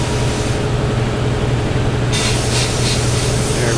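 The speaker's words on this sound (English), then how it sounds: "Cassidy's over there running the blasting cabinet and the compressor is going and going and going." A sandblasting cabinet hisses continuously while an air compressor drones beneath it in a shop, a loud steady rushing noise that brightens partway through as the blast intensifies.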